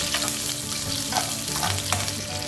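Onions frying in oil in a pan for vegetable pakbet, a steady close crackling sizzle with occasional stirring taps.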